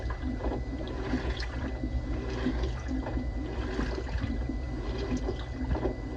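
A washing machine fills with water during a rinse cycle on a towels and sheets setting, a steady close rush and gurgle of running water with faint sloshing throughout, no talk.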